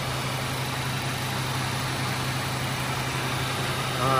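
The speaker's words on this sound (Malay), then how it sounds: "Okey, sekarang enjin kereta dah hidup." A car engine idles steadily with a low, even hum and faint vibration during air-conditioning refrigerant service, no voices, a slight rise in noise right at the end.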